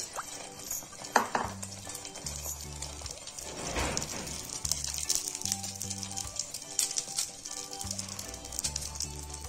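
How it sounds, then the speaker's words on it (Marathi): Bread slices dipped in batter fry in hot oil for a bread omelette, giving a steady sizzle with soft scraping and clinking of utensils throughout, close and without talk. "यामध्ये आपण बॅटर मध्ये बुडवून घेतलेले ब्रेड फ्राय करून घेऊ।"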